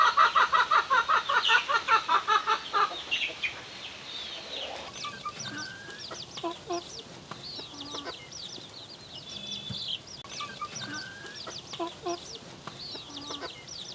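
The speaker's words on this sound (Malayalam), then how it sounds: "നമുക്കൊന്ന് കൂടുകളൊക്കെ ഒന്ന് പോയി കോഴിക്കുഞ്ഞുങ്ങളെയൊക്കെ നമുക്ക് കാണാം." Chickens and small chicks in a backyard coop on a home poultry setup, with rapid loud clucking at the start giving way to steady softer peeping and chirping throughout.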